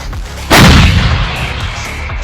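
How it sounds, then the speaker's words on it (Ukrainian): A single loud M777 howitzer blast bursts out sharply, followed by a long rumbling boom that slowly fades. "Гармата!"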